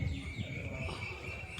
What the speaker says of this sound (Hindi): कोयल की आवाज आ रही भाई, फीमेल कोयल की।